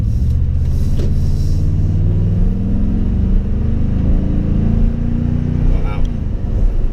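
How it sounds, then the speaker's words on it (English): A Toyota Tundra Platinum pickup accelerates hard, its engine a loud, steady low rumble that builds and rises in pitch over several seconds, heard from inside the cab. "Acceleration test, Joe."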